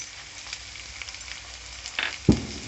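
Ginger garlic paste goes into hot oil with frying onions for mutton iguru, bringing a soft, even sizzle and a sharp clatter near the end as the paste and utensil hit the pan.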